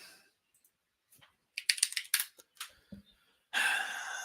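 Computer keyboard typing, a few quiet scattered clicks followed by a quick burst of keystrokes, then a louder stretch of rapid continuous typing close to the microphone.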